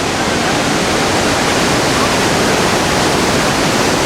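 Loud, constant roar of Niagara Falls, a dense unbroken rush of falling water close by.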